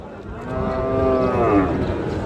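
A Sahiwal bull or calf at a busy cattle market gives a single long, loud, close moo over the murmur of the crowd.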